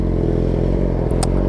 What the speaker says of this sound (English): A little exhaust clip.